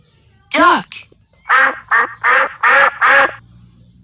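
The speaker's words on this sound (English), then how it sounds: "Duck." A duck gives a run of five loud, nasal quacks in quick succession, close and clear, just after a short spoken word.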